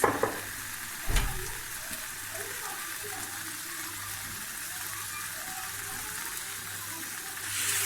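Continuous crackling sizzle of oyster mushrooms frying in a hot pan, with a clatter near the start as something is stirred, steady and close.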